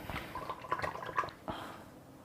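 An electric toothbrush rinsed in water after brushing, giving a few soft drips, splashes and squishy liquid sounds spread over about two seconds, close and fairly quiet.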